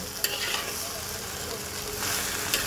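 Tengra fish frying in a pan, a steady close sizzle with soft stirring scrapes for a few seconds.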